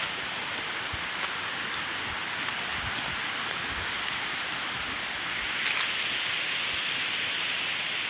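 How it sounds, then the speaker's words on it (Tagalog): A river flows steadily at Sitio Bariw, Libmanan, Camarines Sur, a continuous broad rushing wash of water, close and fairly loud, with no talk over it. "Ayan yung ilog oh."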